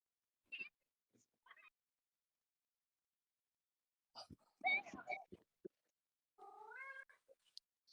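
Domestic cat meowing indoors, a few short, quiet meows scattered among pauses, followed by a longer drawn-out meow near the end, with a person speaking softly between them.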